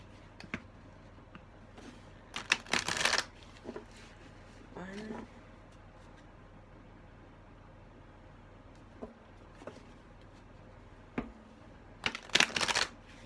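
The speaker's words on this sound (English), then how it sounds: "I'm just going to shuffle and then I'm going to pick a card." Two quick bursts of tarot cards being shuffled, one early and one near the end, with soft taps and a brief spoken word in between.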